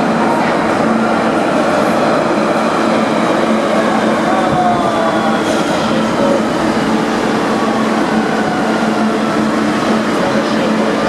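Loud, continuous roar of a metro train in motion, with rumbling wheels and faint squeals, steady from start to finish.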